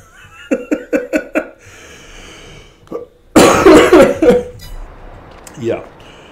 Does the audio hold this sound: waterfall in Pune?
no